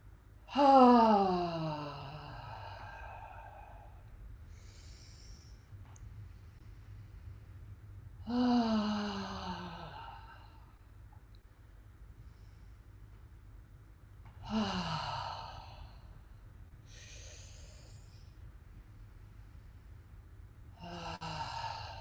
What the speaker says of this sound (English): Keep the sound with the exhale.